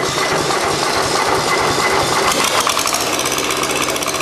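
A tractor's Kubota engine runs loud and close, a rough, rapid clattering rumble that holds steady throughout with no voices.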